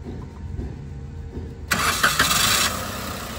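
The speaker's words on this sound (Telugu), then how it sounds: "ఇప్పుడైతే మీకు ఒకసారి వెహికల్ స్టార్ట్ చేసి చూపిస్తాను" A Maruti Suzuki Celerio ZXi petrol hatchback starts: after a quiet lead-in, the starter catches on the first crank and the engine fires abruptly, then settles straight into a steady, close-up idle.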